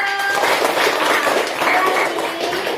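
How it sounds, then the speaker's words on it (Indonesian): Many small children's hands clap together in a classroom in a quick, bright burst of applause that continues steadily for a few seconds. "Tepuk tangan dulu"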